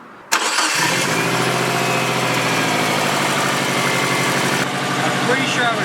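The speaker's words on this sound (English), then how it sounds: "It is time to turn on the car" A station wagon's engine, fitted with new spark plugs and suspected of an exhaust leak, cranks and catches abruptly, then settles into a loud, steady, rumbling idle close by.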